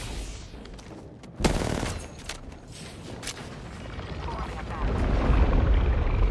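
Rapid gunfire in the shooter game Apex Legends, with several sharp bursts cutting through a dense, continuous layer of game noise and rumble, loud and close, building toward the end.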